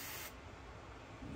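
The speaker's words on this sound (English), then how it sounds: "So we can spray a fine line, and we're gonna hold it" An airbrush sprays a fine line of paint onto a fishing lure through a stencil, giving a short, bright, close hiss that cuts off abruptly and leaves a quiet room.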